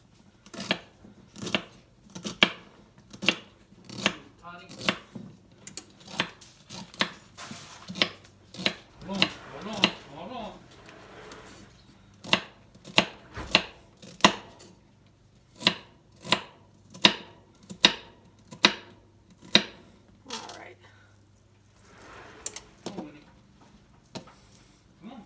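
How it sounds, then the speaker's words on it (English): Knife chopping ingredients on a cutting board for creamy chicken noodle soup, with repeated sharp close knocks in bursts and short pauses, plus light clatter and a quiet voice talking now and then. "Slice it down the middle so it won't be very big pieces."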